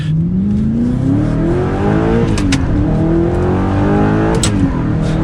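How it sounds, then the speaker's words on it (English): An Audi R8 V8 engine revs up as it pulls away into traffic, pitch climbing steadily through the gears, loud and close throughout. "here's an instance with the V8 pulling out into traffic"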